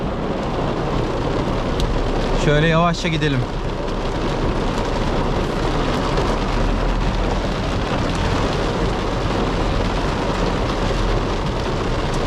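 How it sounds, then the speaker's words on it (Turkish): Heavy rain pours steadily throughout, a dense constant hiss, with a brief harmonic squeal early on and a voice speaking once. "İnanılmaz kötü yağıyor şu an."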